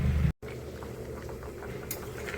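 A curry of potatoes and teasel gourd simmering on the stove, a soft steady bubbling and gentle patter heard close, with a brief cut near the start.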